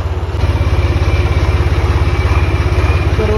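A modified belt-driven motorcycle engine, hard to start, catches and settles into a loud, close, even thumping idle with a rapid regular beat that holds steady to the end.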